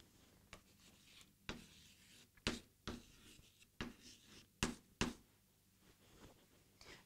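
Chalk or pen writing numbers for a subtraction exercise makes faint, close scratchy strokes and taps in irregular short bursts, alone in a quiet room.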